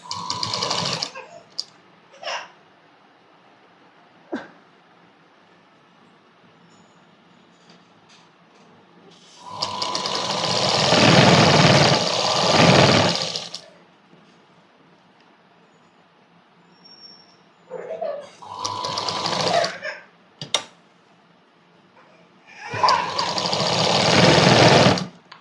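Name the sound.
sewing machine stitching a Punjabi dress neck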